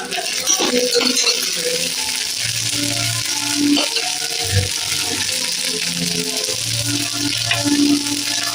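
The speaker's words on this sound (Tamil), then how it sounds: "இதை சுற்றி நல்லா எண்ணெய் ஊற்றிக்கலாம்." Thavalai adai frying in a pan as oil is poured around it, a steady close sizzle and bubbling with a few low thumps and scrapes, fairly loud and continuous.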